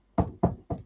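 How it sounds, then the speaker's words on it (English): Three quick, evenly spaced knocks, close and fairly soft, with nothing else around them. "so that's what the knocking is"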